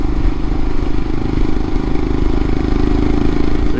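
A 2022 Royal Enfield Himalayan fitted with a Hitchcocks carburetor conversion pulls up a hill in fifth gear, its engine a loud, steady, even drone heard up close with no voices.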